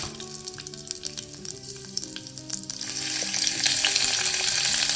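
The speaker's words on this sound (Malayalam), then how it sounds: "വെളിച്ചെണ്ണ നന്നായി ചൂടായപ്പോൾ കുറച്ച് കറിവേപ്പില ഇട്ട് കൊടുത്തിട്ടുണ്ട്" Curry leaves and a quarter teaspoon of fenugreek seeds dropped into hot coconut oil for a Kerala sardine curry, crackling and popping at first, then swelling into a loud, steady close-up sizzle, with no voices.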